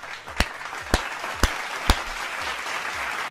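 Audience applause at a live comedy show, a diffuse wash of many hands with a few sharp isolated claps standing out, fairly close and steady.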